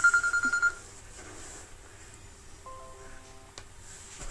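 A phone ringtone chirps in a quick burst of about six rapid rings, then cuts off, leaving a quiet room with a brief electronic tone later.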